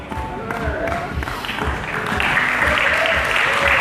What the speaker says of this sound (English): And we give them another round of applause.